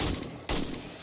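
Gunfire rings out in 7 Days To Die, two loud close shots about half a second apart, each with a sharp crack and decaying tail.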